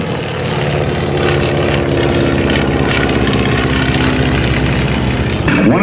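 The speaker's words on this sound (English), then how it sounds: "One of these Stearmans is being flown by Stan Bloyer." A Stearman biplane trainer with a 220 to 225 horsepower radial engine (Jacobs, Lycoming or Continental) drones loudly and steadily as it flies at a Blue Angels homecoming airshow, a constant rough propeller roar throughout.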